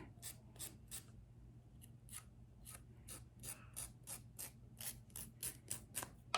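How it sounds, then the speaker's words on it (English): Repeated short rasping strokes of a nail file on a fingernail during a manicure, quiet and close, in a steady downward rhythm that speeds up toward the end, with no talking. "And then use my file."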